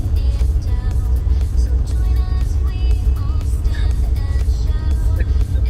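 A 1994 Corvette C4 engine accelerating on the road, a loud, steady low rumble with road and wind noise filling the cabin throughout.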